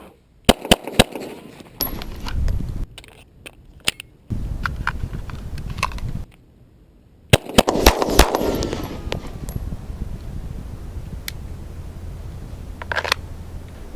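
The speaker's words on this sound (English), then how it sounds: "That is how you do a tactical mag exchange" Full-speed tactical magazine exchange on a handgun with live fire: sharp shots and metallic clicks in quick bursts, a brief silent gap, then another loud report followed by lingering rustle and handling noise.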